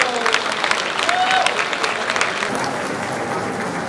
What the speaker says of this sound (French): Les applaudissements sont...